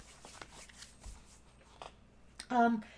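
Brief papery riffles and soft slaps of tarot cards being shuffled, a few quick bursts, ending in a louder flutter near the end; no talking.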